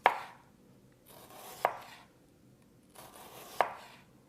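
A knife cuts a red onion into thin slices, giving three crisp, well-spaced chops against a cutting board, each sharp and close, with quiet pauses between.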